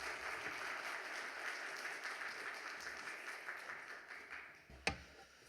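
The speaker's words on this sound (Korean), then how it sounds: "박수 부탁드립니다." A church congregation applauds during a Wednesday worship service, a steady wash of many hands clapping that fades toward the end, with one sharp knock near the close.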